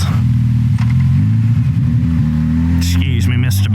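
A bus engine rumbles loudly nearby, its low drone shifting in pitch as it moves past, with someone speaking over the noise.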